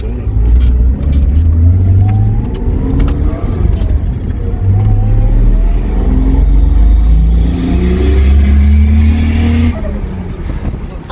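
Turbocharged VL car engine with a big external screamer pipe, revving loudly up close. Rising and falling rev sweeps give a heavy, continuous roar that runs the whole time, with a hint of voices beneath.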